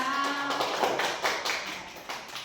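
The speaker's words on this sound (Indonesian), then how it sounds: "tepuk tangan untuk kita semuanya" Students clapping in a middle school classroom, a brief cluster of uneven claps that thins out over a couple of seconds.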